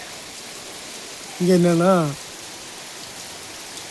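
Steady rain falls in drops outside a house, pattering onto the walkway as a constant wash of noise throughout, with a voice speaking briefly over it midway.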